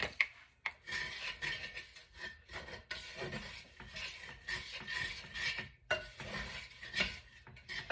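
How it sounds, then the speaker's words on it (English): Soup with a chili mix is stirred in a pot, giving rhythmic scraping and rubbing strokes with faint utensil clinks, close and fairly quiet, with brief pauses between passes. "I'm going to give that a quick stir."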